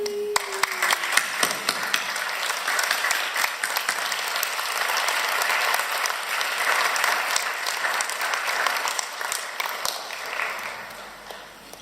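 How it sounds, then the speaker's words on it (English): A graduation audience applauding their teachers at a high school ceremony, sustained dense clapping from a large crowd that swells, holds for about ten seconds and then tapers off. "give all our teachers a big round of applause for their generous dedication"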